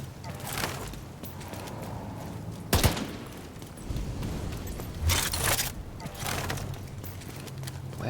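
Rapid automatic gunfire in The Division 2 during PvP combat, sharp bursts breaking out at intervals over steady game background noise, with a voice speaking in between.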